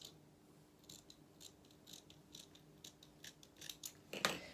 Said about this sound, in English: I'm just going to use my scissors or my snips, and I'm just going to snip through this edge here